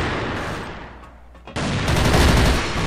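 Rapid bursts of gunfire from the first-person shooter Crossfire follow a grenade, starting loud and dense after a brief quieter lull with a faint background.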